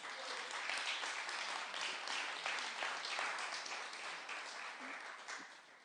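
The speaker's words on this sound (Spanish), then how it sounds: "Dense un aplauso por ser padres que aman a sus hijos." A church congregation claps together in a continuous, even round of applause from a large group, heard at moderate distance and sustained throughout without speech.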